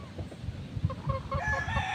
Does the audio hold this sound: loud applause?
no